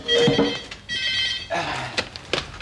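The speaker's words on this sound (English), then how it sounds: "Henry, the phone!" An old landline telephone rings indoors in a busy home, bursts of bright electronic ringing under brief background voices and household bustle.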